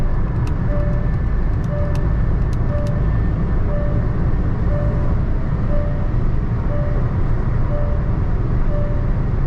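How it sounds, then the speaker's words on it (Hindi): Inside a Hyundai Venue 1.0 Turbo petrol cruising on a highway near 3300 RPM, a steady loud blend of wind rush, tyre roar and engine drone, with a faint regular ticking beep repeating throughout. "विंड नॉइज में अब परसेप्टिबल इंक्रीमेंट सुनाई दे रहा है"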